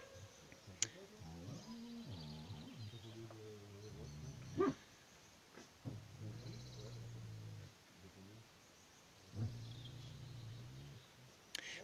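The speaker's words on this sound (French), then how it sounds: "je sais pas pourquoi il aboie" A dog named Ulysse gives faint, distant barks and whining yelps, with a couple of sharper barks standing out over low background voices.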